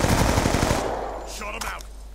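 Rapid automatic gunfire in Call of Duty Black Ops II multiplayer, loud and close, rattling in a quick burst before cutting off into a faint in-game voice and softer sounds.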